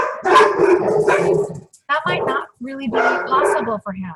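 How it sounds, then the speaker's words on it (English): Dogs bark in the background behind someone talking steadily, several yips and barks mixed in and partly masked by his voice. "Sorry about the dogs."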